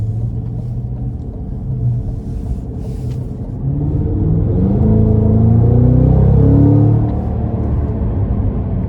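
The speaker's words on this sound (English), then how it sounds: "I'm gonna give it one more pull here." A Cadillac CT5-V Blackwing engine pulling hard, a loud, deep rumble heard from inside the cabin that swells and rises in pitch as it accelerates, then eases slightly toward the end.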